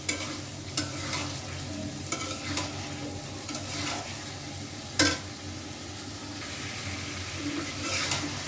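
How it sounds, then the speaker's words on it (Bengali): Potatoes and meat are stir-fried with spices in a pan, giving a steady sizzle with repeated scraping stirs and a sharp utensil knock partway through. "এখন দিয়ে দিব আলু গোশটা। এখন দিয়ে দিলাম। তো ভালো করে আমি কষিয়ে নেব।"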